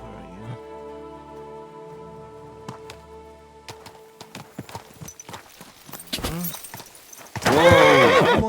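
Horse hooves clip-clop steadily and a horse whinnies in Kingdom Come Deliverance 2, ending in a burst of rain-like noise, with brief voices in between.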